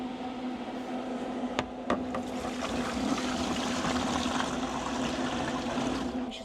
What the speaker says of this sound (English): You should slowly see the water reservoir filling up on the inside.